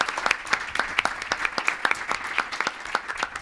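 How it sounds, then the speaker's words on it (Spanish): Sparse applause from a small audience at a round-table discussion, individual claps distinctly separated in an uneven rhythm, fairly close and moderately loud, with no talk. "Un aplauso también para ellos."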